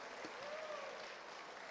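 Audience applause fills the hall after the official AFF Suzuki Cup 2016 draw, a steady dense wash of clapping that holds evenly throughout.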